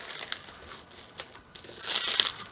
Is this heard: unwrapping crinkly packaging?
yes